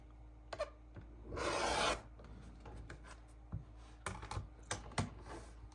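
Rotary cutter or scissors slicing quilting fabric squares in half diagonally, a close rasping cut lasting about half a second amid scattered light taps and handling of fabric on a cutting surface.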